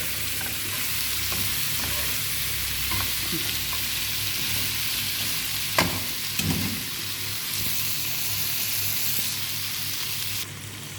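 Cabbage stir-frying in a hot pan with chillies, a loud continuous close sizzle with a couple of brief stirring knocks, no voices over it.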